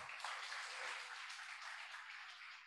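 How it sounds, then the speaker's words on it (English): Audience clapping at a hybrid English-language webinar gathering, a steady dense burst of applause lasting a few seconds, fairly faint and distant, with no voices over it. "Okay, give applause for us."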